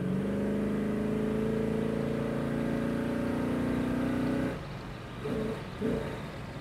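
A 1970 Chevrolet Chevelle SS with a 454 big-block V8 holds a deep, steady rev with a strong droning tone for over four seconds, then the throttle is released and it drops to a rumbling idle with brief blips.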